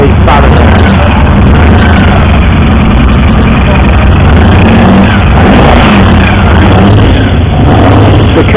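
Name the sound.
reconditioned Jaguar XJ12 V12 engine running on test bed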